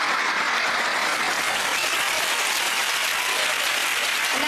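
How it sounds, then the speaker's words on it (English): Comedy club audience at a Russell Howard stand-up show breaking into loud, sustained applause, a dense continuous wash of clapping with no speech over it. "And now you're really applauding."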